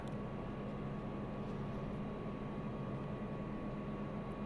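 Steady broadband rotor and engine drone of a helicopter flying over Hawaii in Microsoft Flight Simulator 2024, a constant dense hum with a low tonal band, continuous and fairly close, with no talking.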